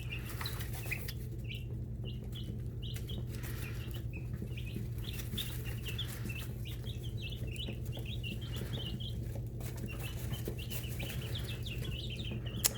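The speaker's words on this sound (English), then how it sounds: "our great backyard chickens" Backyard laying hens kept for colored eggs give soft, scattered clucks and short chirps throughout, under a steady low hum and rustling, with no one talking.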